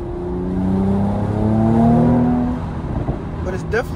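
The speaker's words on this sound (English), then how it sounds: "Because the car already sounds insane." Mercedes-AMG C43 engine revving while driving in the city, a steady loud drone with rising and falling harmonics for about three seconds before easing off near the end.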